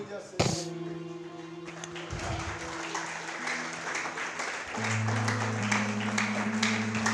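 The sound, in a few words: congregation applause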